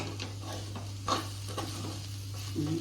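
Half a kilo of beetroot fry stirred in a pan, a soft sizzle under repeated scraping strokes of a spoon against the pan, quiet and close over a steady low hum.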